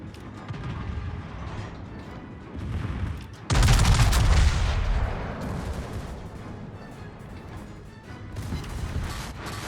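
Naval gun salvo in World of Warships from the battleship Tirpitz, a sudden heavy booming blast that rolls into a long rumbling tail, over ongoing background battle noise and lighter distant thuds.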